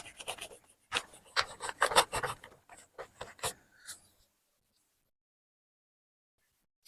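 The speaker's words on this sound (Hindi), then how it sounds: "तो मैं इसको रब कर दे रहा हूँ।" Someone rubs writing off a board with brisk back-and-forth strokes, a series of dry scraping bursts for about four seconds before falling silent.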